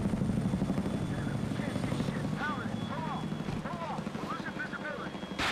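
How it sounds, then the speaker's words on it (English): A helicopter approaches in the Medal of Honor Warfighter video game, its rotor thumping steadily and loudly under wind noise, with chirping effects and a voice in the background. "Incoming chopper."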